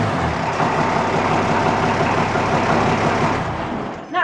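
A heavy engine idles steadily and loudly nearby, a constant low rumble that eases off near the end with no talk over it.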